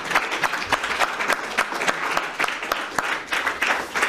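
Applause from a seated audience after a lecture at a French academic psychoanalysis seminar: sharp claps with a few pronounced accents over a steady, moderately loud wash lasting the full few seconds, with no voices.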